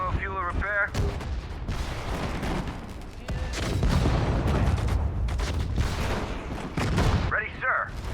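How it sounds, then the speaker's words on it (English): Heavy booming artillery and battle gunfire from Sudden Strike 4 in a Battle of the Bulge mission roll on continuously, with short in-game voice lines heard over the rumble. "Artillery, fire!"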